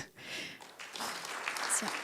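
An audience at a conference claps steadily, a dense wash of applause that holds at moderate loudness throughout.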